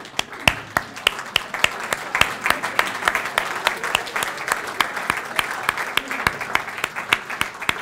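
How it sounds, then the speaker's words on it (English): Employees stand and applaud at a college's State of the College address, a moderate crowd clapping steadily with a few sharp individual claps standing out in a regular rhythm near the mic. "I'd like all of you just to stand and clap for yourselves because you've done a great job this year"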